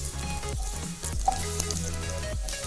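Half a teaspoon of whole cumin seeds dropped into the hot oil left from frying paneer, sizzling steadily at close range with low rumbling pan noise and a few light clinks.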